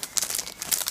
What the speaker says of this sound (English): You can hear it crinkly